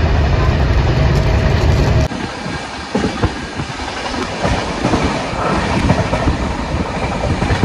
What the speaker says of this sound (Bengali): ট্রেন এই বর্ধমান ছাড়ার পর এই দেখুন 110 স্পিড তুলেছে।